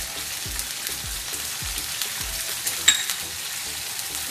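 Mutton karhi frying in a pan with salt and garlic ginger paste, a steady sizzle with soft scraping stirs repeating throughout, close and alone.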